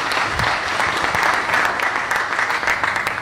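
Audience applause at a televised Guinean official ceremony on teacher distance training, a dense, steady wash of many hands clapping that fills the whole stretch at even loudness.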